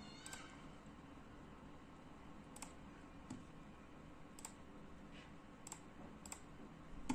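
Sparse, quiet clicks of a computer keyboard in a calm room, a handful of irregular taps spread across the stretch with no talking.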